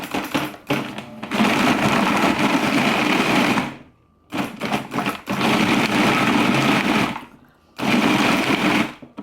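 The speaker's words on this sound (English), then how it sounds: "So here I have my diced bread for my breadcrumbs. I'm going to process this now." A food processor chops diced bread into coarse breadcrumbs for vegan oyster mushroom cakes, running in three loud, steady bursts with short silent pauses between them and no talk over it.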